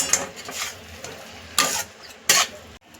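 Fried manchurian balls being stirred into gravy in a pan, a few scraping, clattering strokes of a utensil against the metal with brief louder bursts over a low background sizzle, no voices.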